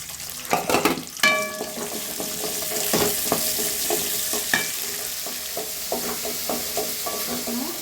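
Whole green chillies and small shallots sauté in hot oil in a pan for a tamarind curry with country broad beans, with a steady close sizzle and repeated clinks and scrapes of a spoon stirring against the pan.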